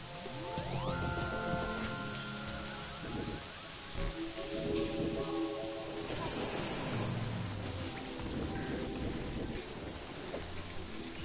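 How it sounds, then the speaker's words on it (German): Rain falls in the video game Terraria as a soft, constant patter under louder tonal game music, with brief rumbling swells. "Dass der Regen auch nicht aufhört, ey."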